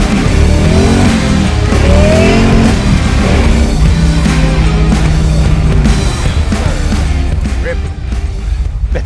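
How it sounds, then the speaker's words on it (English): A supercharged 1970 Camaro Gen 2 restomod hot rod roars loudly and steadily at full throttle, with its engine note rising as it accelerates. "getting full throttle into a car like that is gnarly"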